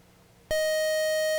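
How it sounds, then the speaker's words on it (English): A quiz show buzzer signalling that time is up on a high school quiz competition, a sudden loud steady electronic tone that starts partway through and holds to the end. "that buzzer at the end means time is up"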